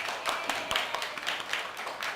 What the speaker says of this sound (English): Please clap your hand for Arms group.